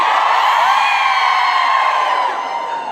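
An audience at a live event cheering and whooping loudly, a sustained wall of excited voices that stays strong before easing slightly at the end.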